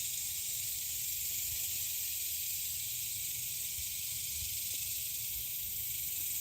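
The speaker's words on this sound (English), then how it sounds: "Cicadas are loud primarily because males are singing to attract females." Male cicadas in Texas sing their mating call as a steady, loud high-pitched drone that holds without a break from start to finish, with no other sound rising above it.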